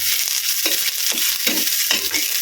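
Red onion frying in palm oil in a pan, a steady bright sizzle broken by several rhythmic scraping stirs, close and fairly loud, no voices.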